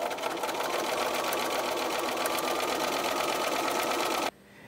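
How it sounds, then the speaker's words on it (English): Sewing machine stitching a quarter-inch seam on fabric strips for a string-pieced bowl cozy, a steady close whirring run that stops abruptly just before the end. "Select another strip, place it face down, and then sew the 1/4-inch seam again."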